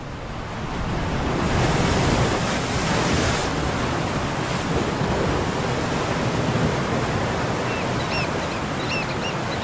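Powerful ocean surf roars continuously on the South African coast at De Hoop and Kogelberg, a dense wash of crashing water close by, with faint bird calls near the end.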